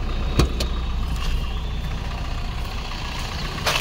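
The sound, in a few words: Maruti Brezza diesel car engine idling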